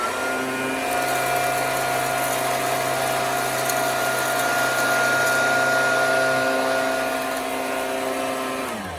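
Hooverlux vacuum cleaner drawing up sawdust, a steady loud motor whine with sustained tonal hum running throughout, close by and alone, tapering slightly at the end.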